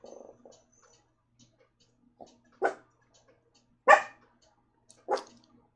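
A dog in a quiet indoor space barks three separate, sharp times at spaced intervals, fairly close and clear, with near silence between the barks and no talking.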